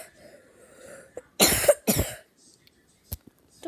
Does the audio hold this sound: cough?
yes